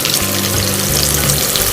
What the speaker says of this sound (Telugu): ఇవన్నిటిని కూడా చక్కగా ఈ నూనెలో ఫ్రై చేసేసుకుందాం